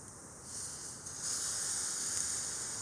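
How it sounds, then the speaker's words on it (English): A steady, soft frying hiss of a grilled cheese sandwich in a pan that thickens partway through and then holds constant, with no voices. "Now you should hear a sizzle"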